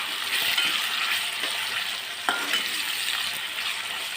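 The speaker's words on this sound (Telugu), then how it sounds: "టమాటా బాతు కొంచెం కరివేపాకు వేసుకుందామండి అలాగే కొత్తిమీర కూడా కొద్దిగా వేసుకొని వేపుకుంటాం" Tomato bath being fried in a pan with curry leaves and coriander, a steady close sizzle with light stirring and occasional scrapes throughout, no voices.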